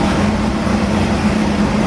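A 632 cubic inch big block Chevrolet engine roars at full load on a dyno, a dense, loud, continuous drone with a steady low hum underneath, heard alone.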